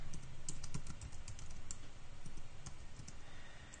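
Steady typing on a computer keyboard, close and fairly quiet, with irregular clustered key clicks running throughout and no talking.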